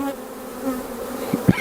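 Honey bees hum at an open hive during an inspection, a steady, close buzzing drone, with a couple of louder passes near the end.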